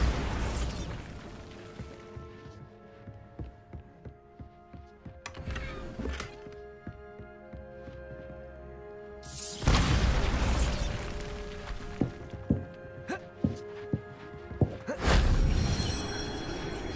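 Bombarda blasting spells in Hogwarts Legacy set off loud bursts, a booming explosion at the start and two more around the middle and end, each followed by rumbling debris and scattered clicks and pops between them.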